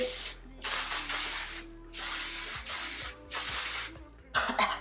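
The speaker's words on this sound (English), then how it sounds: "So we're gonna go with one last spray." Hairspray hisses onto styled glam waves in several long bursts, close and steady, with short gaps between sprays.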